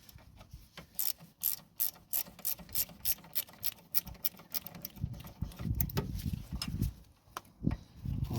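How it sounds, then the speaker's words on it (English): Ratchet loosening the bolts on the rear brake of a 2012 Renault Megane Mk3, rapid rhythmic clicking bursts repeated many times up close, with some clunking metal handling toward the end and no talk. "loosen it quicker with the ratchet one"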